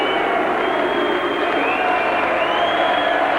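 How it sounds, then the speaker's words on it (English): A boxing arena crowd keeps up a steady, dense roar of booing and jeering, filling the space evenly without any break in intensity. "Why they're booing Lewis, heaven alone knows."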